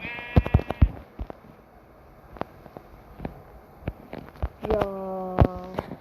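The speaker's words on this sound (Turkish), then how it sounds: "burada iyi koyun var ha" Minecraft sheep bleat in short wavering calls, a cluster at the start and a longer one near the end, with scattered clicks and thumps of game actions between them.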